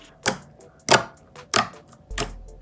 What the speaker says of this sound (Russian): Как вы слышите, он очень хорошо кликает.